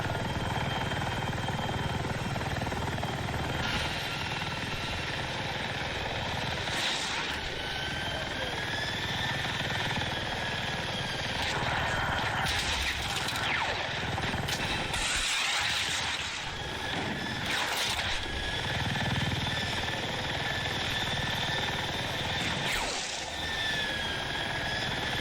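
A helicopter in the video game Battlefield 6 keeps up a loud, steady rotor and engine drone from start to end, with shifting whines, gunfire-like bursts and a voice talking over it.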